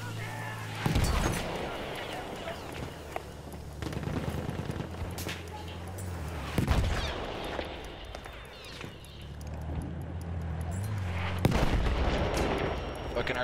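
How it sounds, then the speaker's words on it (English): Artillery and gunfire in a Battlefield 1 multiplayer match on Xbox One, with heavy booming blasts near 1, 7 and 11.5 seconds over steady low rumble and scattered shots. "Fucking artillery, man."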